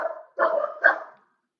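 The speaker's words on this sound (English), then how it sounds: "There goes the dogs." Dogs bark outdoors in three loud, close barks. The first is short and the last two are longer, and they come alone with no talk over them.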